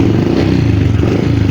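A Honda XRM 125 Fi motorcycle engine runs steadily at idle, a loud, close, continuous low rumble with faint mechanical clatter throughout.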